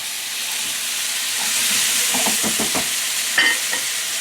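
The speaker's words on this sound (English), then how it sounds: "I just want to cook these tomatoes and onions in this curry powder." Tomatoes and onions frying in curry powder in a pan, a loud, close, continuous sizzle with a few bursts of stirring and scraping near the middle and a brief spatter near the end, no talk.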